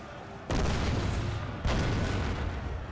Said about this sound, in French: Ah, le canon, ça tire.